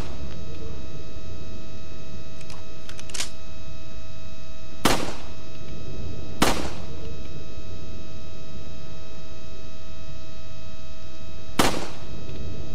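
Gunfire in the video game Resident Evil 4 sounds as three sharp, loud shots spaced seconds apart, preceded by a few faint clicks over a constant electrical hum.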